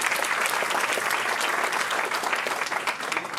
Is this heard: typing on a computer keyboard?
no